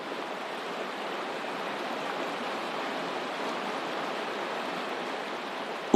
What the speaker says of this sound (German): Noch einmal mit der ganzen Kraft des Wassers.